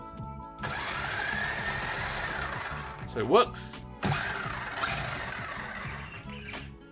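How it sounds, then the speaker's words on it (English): Simulated engine sound from an RES-V3 sound module on a brushless WL Toys RC car, a steady buzzing drone rising and falling with throttle blips, with a short whine mid-clip, close and under brief talk. "I have engine sound while enjoying my WL toys on a brushless"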